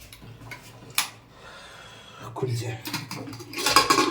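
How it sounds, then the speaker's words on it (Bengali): Pressure cooker of boiled cauliflower and potatoes being opened, with a sharp clank near the start and scraping, rattling metal clatter building toward the end, close and moderately loud, while a person talks. "এখানে একটা কুকারে সব সিদ্ধ দিয়েছিলাম ফুলকপি আলু দেখাচ্ছি বের করে"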